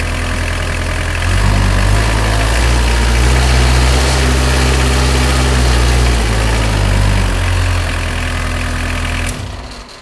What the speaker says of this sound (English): Turn it counterclockwise to race the engine up.